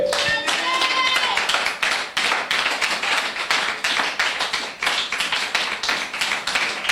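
A church congregation applauding to acclaim the Lord, loud, dense and continuous clapping from many hands close by, steady for the whole stretch, with a brief tone and faint voices at the start.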